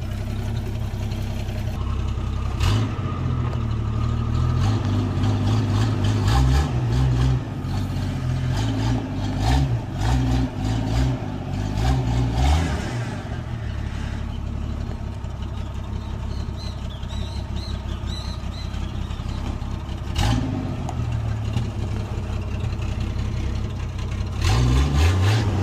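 A Toyota Land Cruiser FJ60 project truck with no working brakes runs as it is driven, its engine a loud, steady low rumble with slight swells in revs throughout.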